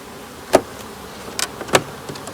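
Honeybees at an open hive during an early spring inspection, several brief buzzing passes of individual bees flying close by against a quiet background, with no talking.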